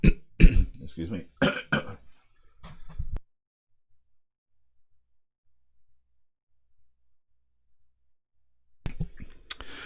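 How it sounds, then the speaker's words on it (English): A man coughs and clears his throat in a few close, sharp bursts, followed by near silence and a faint click before he starts speaking again. "I do have a bit of cough today."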